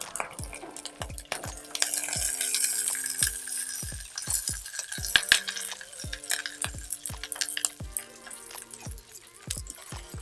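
Cinnamon stick and curry leaves frying in hot oil for a Jaffna-style egg curry, a steady sizzle with repeated sharp clinks and scrapes of a utensil against the pan throughout.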